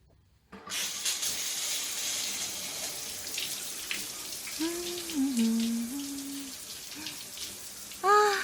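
A shower starts abruptly and runs as a steady, close rush of water in a home bathroom for an audio drama, with faint tonal squeaks and a brief voice-like sound over the spray.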